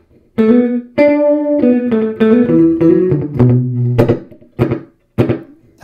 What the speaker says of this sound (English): That's a slap echo.